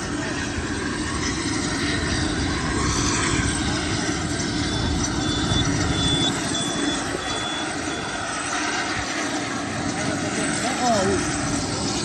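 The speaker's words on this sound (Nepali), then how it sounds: "अहिले यसपालि भेट्दा चाहिँ हामी प्लेन देखाइदिउँ न त राजनलाई भनेर त्यहाँ आएका छौँ एयरपोर्टमा" An airplane engine roars at Biratnagar airport, a broad steady drone that runs for the full stretch without letup, with faint voices mixed in underneath.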